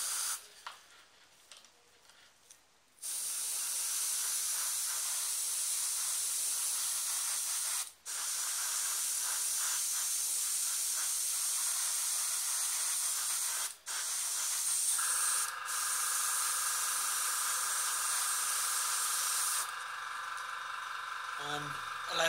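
Airbrush spraying Citadel Air red paint onto a miniature: a steady, close, loud hiss that runs continuously with a couple of brief breaks where the trigger is released, its tone shifting slightly near the end.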